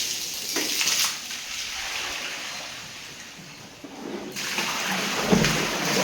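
Water splashes and pours in a steady, close wash, with a brief louder splatter near the end.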